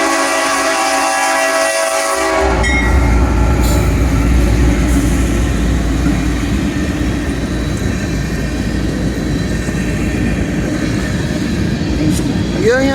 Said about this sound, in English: Union Pacific coming through Thurmond.